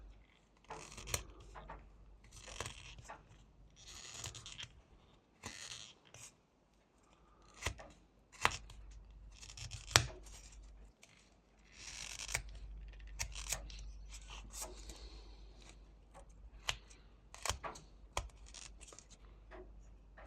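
A knife whittling a small stop cut into a wooden reindeer carving, delivering a run of close, sharp scraping and cutting strokes at an irregular pace.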